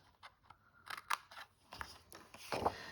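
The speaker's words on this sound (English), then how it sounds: "We're gonna cut this rectangle corner completely out." Scissors snip through the corner of a paper Halloween treat box, a few quiet close crisp cuts and paper rustles in a near-silent room.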